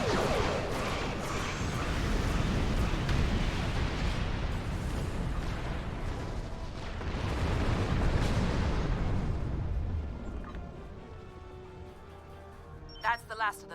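Starship weapons volley in a Star Trek video game: a dense, continuous roar of booming blasts and rumbling explosions fills most of the stretch. It thins out near the end, where a few sharp electronic chirps and pops remain.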